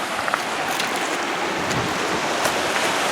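A creek in the San Bernardino Mountains rushing steadily, a broad, even wash of flowing water close by with no voices, constant in level throughout.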